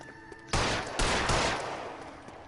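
Gunfire in the L.A. Noire video game during a police chase: a loud burst of shots followed by several more sharp bangs about half a second apart, close and punchy over a quiet room-tone background.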